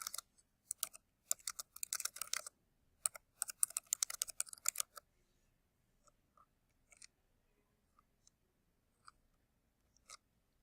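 Quick bursts of clicky computer keyboard typing as a short reply is entered, dense keystrokes for the first few seconds, then scattered single taps trailing off into quiet.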